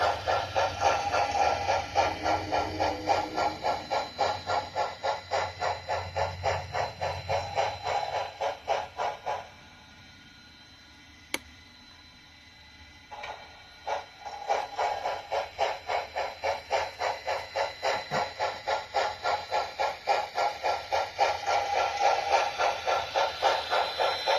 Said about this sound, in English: The real train passes in background.